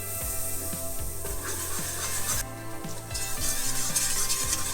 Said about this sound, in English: Now that our roux is done, we're gonna slowly add in our beer,